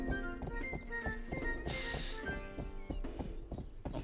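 A horse's hooves clip-clop at a steady trotting pace in the medieval video game Rustler, with regular close hoof strikes over faint background music and a brief clatter midway.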